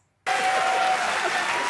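An audience bursts into loud applause and cheering that starts abruptly after a moment of near-silence and then holds at a dense, steady level to the end.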